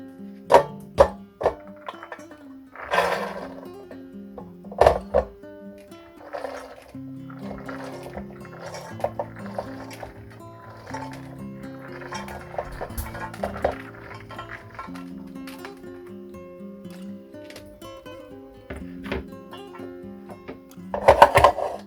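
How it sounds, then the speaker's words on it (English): Beans rinsed with water in a pot for home-canned baked beans: liquid sloshing and trickling with clinks of metal, a steady close wet churning broken by louder splashes near the start and end. "And I'm just going to rinse them."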